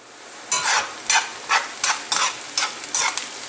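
Onion sizzles in butter and vegetable oil in a pan while a utensil stirs it, making about eight regular scraping swishes over a low steady fry.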